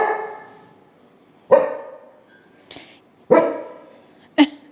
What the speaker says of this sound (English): I'm trying to do it without him barking.